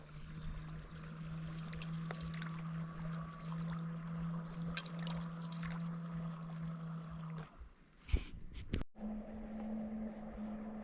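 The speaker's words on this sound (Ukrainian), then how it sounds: "Ну що, погнали, перший завоз. Кораблік пішов." Fishing bait boat launched onto the Southern Bug river, a steady low motor drone running for several seconds, then a brief splashy bump before the hum resumes at a slightly higher pitch.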